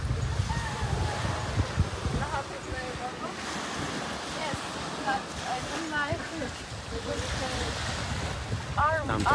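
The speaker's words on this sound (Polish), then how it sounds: "Sorry za wiatr." Wind buffets the microphone on a nearly empty beach in the Philippines while waves wash in steadily below it, with faint voices and chatter drifting in the background.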